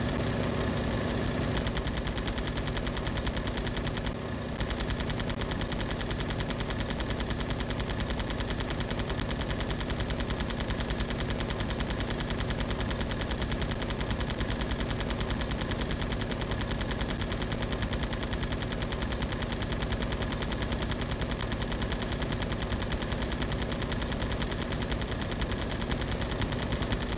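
In the video game Ace of the Air, an aircraft machine gun fires without stopping in a dense, rapid stream of shots. A low engine drone sits underneath, loud and continuous, with no speech.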